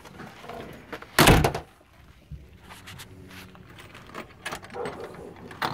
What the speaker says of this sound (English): I'm gonna go ahead and close the door now